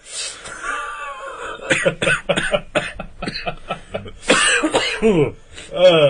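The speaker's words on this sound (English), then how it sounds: "about to cough up a lung" Several harsh, broadband coughing bursts from an adult man during a casual podcast conversation, loud and close, with throat-clearing sounds mixed among them.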